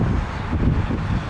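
North-northwest wind at about 10 mph blows across the microphone in a steady low roar with slight gusty swells, alone and fairly loud.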